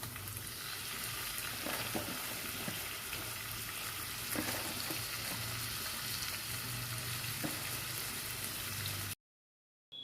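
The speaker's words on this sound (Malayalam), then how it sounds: "ഇനി നമുക്ക് കൊഞ്ചിട്ട് കൊടുത്ത് ഫ്രൈ ചെയ്തെടുക്കാം." Prawns fry in hot oil in a pan for a Kerala-style prawn fry, giving a steady, close sizzle with soft crackles for about nine seconds before the sound cuts out briefly.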